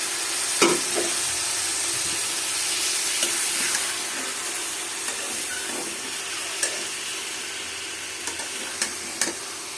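Thinly sliced radish and potato frying in a pan for a radish and brinjal curry with dried Bombay duck fish, a steady loud sizzle with occasional stirring clicks and scrapes.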